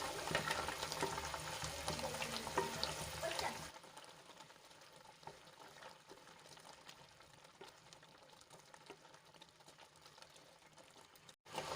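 Sev noodles are stirred through jaggery water for sugar-free sweet barej sev, a Holi dish. A busy wet swishing and scraping fills the first few seconds, then drops to a soft, quiet liquid rustle.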